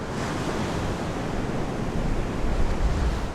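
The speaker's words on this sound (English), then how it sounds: "the gentle waves that caress the shore" Gentle ocean waves wash steadily onto a beach outside Malabo, a continuous soft rush of surf that swells slightly toward the end.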